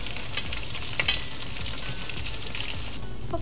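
Food fries in hot oil until crisp and browned, giving a dense, continuous sizzle with small pops and crackles, close and fairly loud with no voices.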